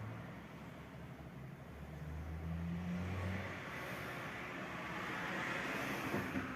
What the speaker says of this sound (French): J'entends pas parce qu'il y a la voiture qui passe.